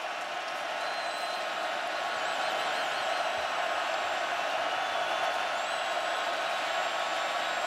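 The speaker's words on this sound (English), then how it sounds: "Crowd gets louder and louder." Crowd roar at a college football stadium during a UNC versus Virginia Tech game, a broad continuous din from a large distant crowd holding steady and loud across the whole stretch, with no talk.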